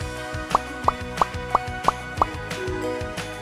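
Cubes of vegan vanilla cake drop one after another into liquid in a baking dish, six soft wet plops at an even pace, close and clear.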